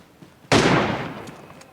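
A single sharp gunshot in the video game PUBG Mobile, a loud sudden crack with a decaying rumble trailing off over about a second.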